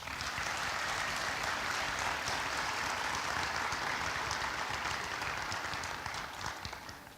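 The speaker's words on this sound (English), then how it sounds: "Please give them all a huge round of applause." Audience at a nursing school pinning ceremony gives a sustained, dense round of applause, loud and even for several seconds before easing slightly at the end.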